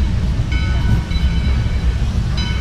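Loud rumbling of a moving train on the Yosemite Mountain Sugar Pine Railroad, with steady low-pitched rolling noise and faint metallic squeals riding on top.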